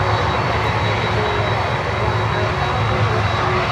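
A Lufthansa airliner rolls on runway 8, its engines giving a steady, continuous roar throughout, fairly close and unbroken, with no voices over it.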